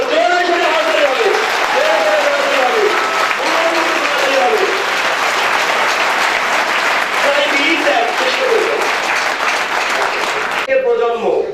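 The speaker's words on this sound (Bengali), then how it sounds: "সকল সফল ব্যক্তিদের জন্য জোরে সোরে হাততালি হবে" A large audience at a networking seminar bursts into loud, sustained applause for successful people, dense clapping that holds steady for about ten seconds, while an amplified speaker's voice carries over the top.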